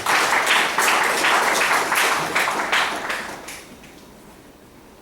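A lecture audience applauds a lawyer after his public talk, a dense patter of many hands at moderate volume that thins out and fades to near quiet over the last second or two.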